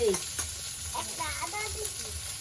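Koi fish fry in a pan of hot oil with ginger and garlic, giving a close, steady sizzle with crackling pops and brief stirring scrapes.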